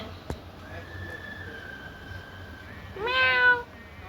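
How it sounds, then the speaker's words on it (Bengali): A cute cat in Kolkata gives one clear, close meow near the end, following a long steady whistling tone over low background hum. "কত কিউট বিড়াল দেখো হাই হাই ম্যাও"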